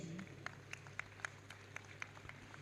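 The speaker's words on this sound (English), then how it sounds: "I ask each and everyone in the audience to give a huge round of applause" Audience at a dental college convocation gives sparse applause, a few distinct, evenly spaced claps over a quiet hall hum, faint and thin.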